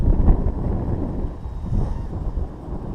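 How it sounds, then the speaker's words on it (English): Gusty outdoor wind buffets the microphone in loud, continuous low rumbles that swell and ease, while an Eachine E119 micro helicopter is flown nearby. "Now the wind has picked up and we're having problems."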